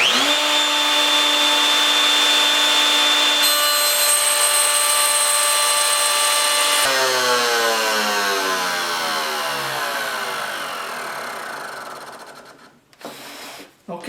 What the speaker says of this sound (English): all I'm going to do now is start the router, push my board through until I hit the stop block